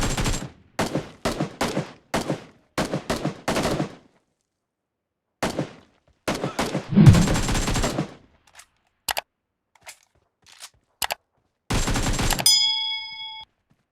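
Gunfire from the PUBG mobile game on a Redmi Note 11 phone: several rapid bursts of automatic fire, then scattered single shots and a brief ringing ding at the end, with no talk.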